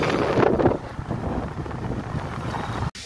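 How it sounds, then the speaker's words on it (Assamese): Strong wind buffets the microphone outdoors, giving a loud, continuous roaring rush that swells at the start and then holds steady before cutting off briefly near the end. "এইয়া বতাহ উতৰি যায়"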